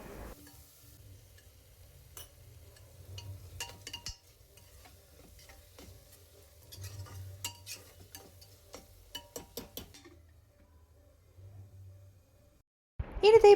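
Masala is stirred and sautéed in a pressure cooker for chicken curry, with faint sizzling and scattered spoon scrapes and clicks against the metal, a voice speaking quietly underneath and a louder knock at the end.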